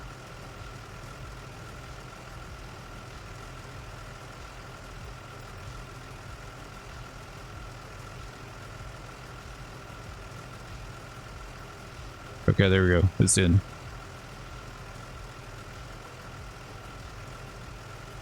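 A fire engine idles in a firefighting video game, a faint, steady low mechanical hum throughout, with a brief burst of a voice speaking partway through.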